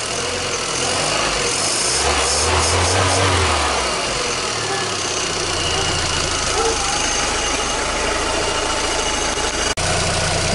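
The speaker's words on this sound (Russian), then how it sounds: "машина устойчиво работает на холостом ходу." A Volkswagen engine with mono-injection (single-point fuel injection) idles steadily, a continuous close mechanical hum with a low throb and no speech over it.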